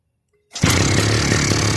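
A petrol lawn mower engine is started with a foot after near silence, catching abruptly and settling into a loud, close, steady running drone; the engine has a fault with poor idling and heavy exhaust smoke.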